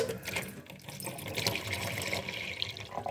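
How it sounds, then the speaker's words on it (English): Water pours steadily into a saucer under a houseplant, giving a continuous close trickle and splash. "so you want to add some more water like this"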